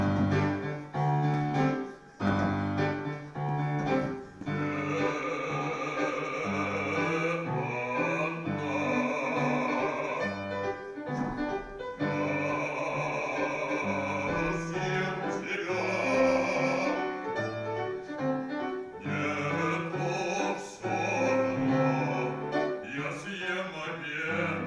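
Orchestral-style music opening Prokofiev's childhood opera The Giant, a short twelve-page piece, playing dense and loud throughout with layered instruments and brief dips between phrases, no voices.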